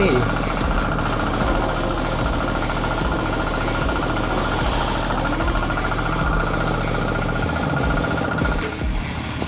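A heavy diesel engine of a New Tech tractor fitted with a front-mounted grass cutter runs steadily and loudly nearby at an agricultural fair, a continuous rattling drone with no break.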